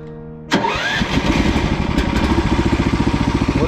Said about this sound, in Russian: Заводится вот таким вот образом.